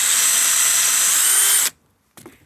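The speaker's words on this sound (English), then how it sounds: "So I'm taking a 7/64 drill bit and I'm drilling through just the deck board part to get through there." A power drill with a 7/64 drill bit bores through a deck board while an aluminum railing post is being installed; a loud, steady whine runs close up for about 1.7 seconds, stops abruptly, then a brief second burst follows.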